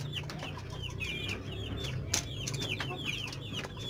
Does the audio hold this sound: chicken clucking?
yes